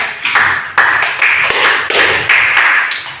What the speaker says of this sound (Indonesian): Tepuk tangan untuk Anda Faiza.